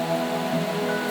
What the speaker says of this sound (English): That is a strong rain.